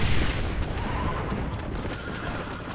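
Horses whinnying and neighing in the Xbox 360 game Red Dead Redemption, loud and close amid a dense rumbling action scene with crashing, impact-like noise throughout, no speech.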